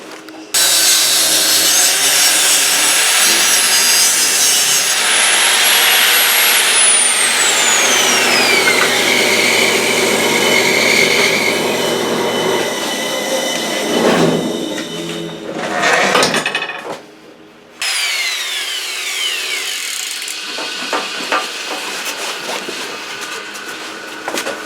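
A power saw cuts the back off a piece of wood, a loud, sustained whine whose pitch sweeps down as the blade bites, then stutters and drops out before a rougher, quieter cutting finish.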